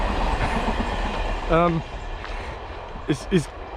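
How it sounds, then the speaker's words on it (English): A train passes in the distance with a steady rumble under outdoor noise, followed by a couple of short horn-like tones near the end. "There goes the train."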